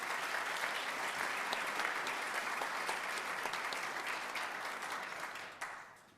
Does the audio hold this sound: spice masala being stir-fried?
no